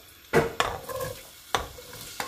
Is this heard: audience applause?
no